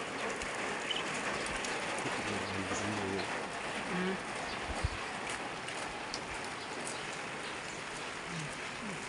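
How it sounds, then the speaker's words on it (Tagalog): Steady, dense rain pours down close by, with a constant wash of drops on surfaces, a few low thuds, and a brief voice exclaiming once. "palakas ng ulan"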